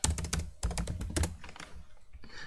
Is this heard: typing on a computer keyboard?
yes